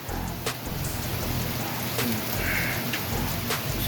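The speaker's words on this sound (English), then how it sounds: "So glad I ain't got to deal with that rain." Steady rain pours throughout as a dense, even hiss with scattered louder drops, continuous and fairly close, with no talking.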